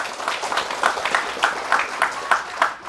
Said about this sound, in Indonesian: Tepuk tangan untuk santri yang ada di sini semuanya